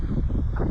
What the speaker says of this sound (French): donc il reste encore beaucoup de vent aujourd'hui